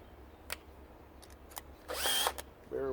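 A power drill backs screws out of the panel on an on-demand water heater during a teardown, with brief clicks and taps and then a short close whirring burst followed by another.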